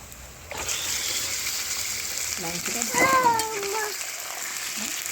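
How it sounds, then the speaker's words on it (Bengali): Chicken pieces fry in hot oil over lightly browned onions for a restaurant-style Bengali chicken kosha, giving a steady broadband sizzle with a brief voice-like tonal passage midway. "তেলের ওপর মাংসটাকে ভেজে নিচ্ছি"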